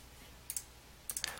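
A computer mouse clicks on an auto sum button in a spreadsheet, a faint pair of sharp clicks followed by a quick cluster of several more.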